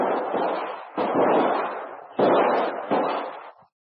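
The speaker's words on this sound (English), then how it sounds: "both the savage and Kolo start shooting at each other" Gunshot sound effects ring out in a 1936 Jungle Jim radio drama as two characters fire at each other: four loud, sharp blasts, each with a rough, lingering decay, packed close together before cutting to silence.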